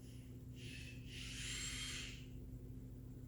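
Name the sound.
kids playing with a power drill in the background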